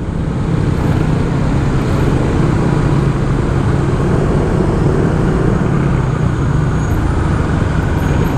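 Dense road traffic on Commonwealth Avenue roars steadily and loudly. Cars, buses and trucks blend into a continuous rumbling wash with no clear breaks.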